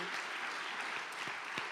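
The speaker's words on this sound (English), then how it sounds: "Give yourselves a round of applause for being here tonight" Applause from an audience at a Martin Luther King Jr. birthday celebration, a dense steady wash of many hands clapping throughout, with no voices standing out.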